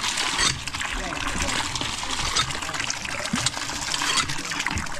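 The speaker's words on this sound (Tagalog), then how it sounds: "Lakas ang tubig, oh." A strong, steady rush of water from a hand pump, loud and continuous throughout, with people talking over it.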